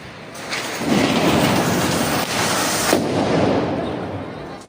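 A Diwali firecracker bomb goes off with a sharp, loud blast followed by a long rumbling crackle and hiss, with a second faint pop partway through, all fading out over several seconds.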